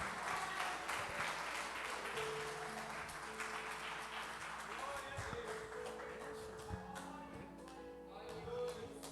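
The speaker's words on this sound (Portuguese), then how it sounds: "E as palmas louvem ao nosso Senhor." A church congregation claps in praise at the close of a service, steady dense applause held at a low level throughout, with voices and some tonal sounds mixed in underneath.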